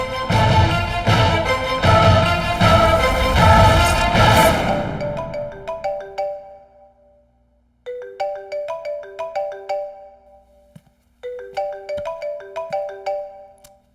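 A phone ringtone from a Hindi-dubbed South Indian action film scene plays as a bright, repeating melodic phrase in three distinct bursts with short gaps, coming in after loud background music fades out.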